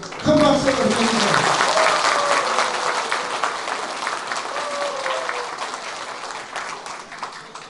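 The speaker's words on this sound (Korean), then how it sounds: "큰 박수 부탁드립니다" A crowd at the opening ceremony of a folk pungmul music competition in Okcheon, South Korea breaks into loud, sustained applause that gradually fades, with a voice speaking over the clapping at the start.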